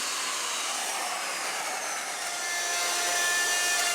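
Wooden boards are sanded by hand, giving a continuous, close, loud rasping hiss that stays even throughout with no pauses.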